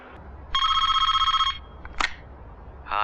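Telephone ringing, one loud bright electronic ring burst about a second long, followed by a short clatter and the start of another ring.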